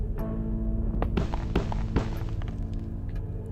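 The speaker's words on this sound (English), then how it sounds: "So it will sound like this when he walks." Springtrap's footsteps in a Minecraft build of the game FNaF 3: a few scattered, heavy thuds and clanks over a low background hum, irregular and moderately loud, with no voices.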